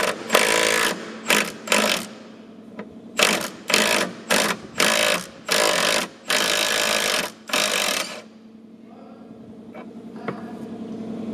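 A cordless power tool on a 4 Ah battery works at a rust-welded fastener in a Subaru WRX suspension bushing, loud close bursts of ratcheting impact hammering in repeated pulses, then a quieter idle hum.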